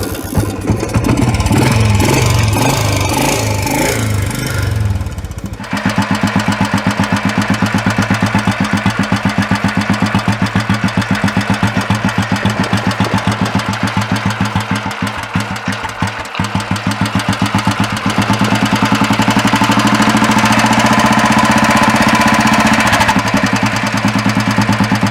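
A 1990 Royal Enfield Bullet 350 starts with some rough revving, then settles into a loud, close, steady thumping idle that keeps its even rhythm throughout.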